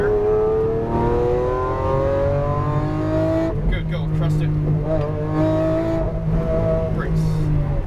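A Lamborghini Aventador accelerates on a race track, its engine a loud, rising whine that drops sharply at a gear change and then climbs again, with a driving instructor speaking over it.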